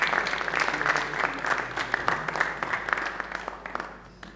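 A crowd applauds during a conference panel session, with sustained, moderately loud clapping that slowly fades toward the end.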